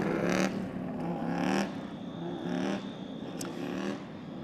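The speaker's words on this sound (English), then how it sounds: "it's really loud here as the bikes go out onto the circuit" MotoAmerica Super Hooligans racing motorcycles leave pit lane onto the Mid-Ohio circuit, their engines roaring and revving in repeated loud surges as bikes pass close by, with no talking.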